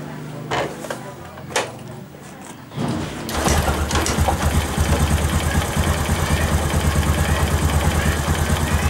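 A motorcycle engine, just back together after a valve clearance adjustment, starts after a few clicks and handling sounds, then idles steadily and close with a regular low rhythmic thrum.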